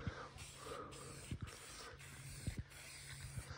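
Spray painting a car hood on a Saab 900 with a light first coat, a soft steady hiss broken by short pauses and a few faint clicks, alone and not loud.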